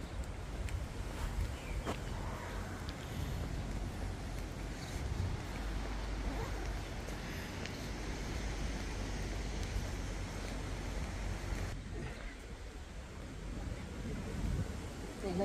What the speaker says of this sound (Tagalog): naririnig na ang hangin na yan